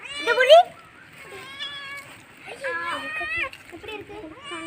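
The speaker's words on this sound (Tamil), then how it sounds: "எங்களோட பூனை மூஞ்ச காட்டலாம்" A pet cat meows loudly several times at a family birthday gathering at home, the cries rising and falling over a few seconds while children chatter and play nearby.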